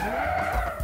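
A car drifts and skids in a video game hide-and-seek session, producing a brief, steady tire squeal layered over engine noise for just under a second.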